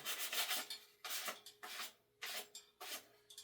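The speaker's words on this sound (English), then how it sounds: "I'm just going to kind of like make some rub marks to get to the paint underneath" Paint is rubbed off an old wooden rocking horse in five steady strokes of close, dry rasping, each stroke separated by a brief pause, with no talking.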